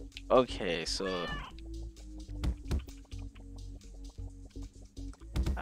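A cat meows a few times in a video game boss area, close and fairly loud, set over a steady game soundtrack after a voice speaks briefly at the start.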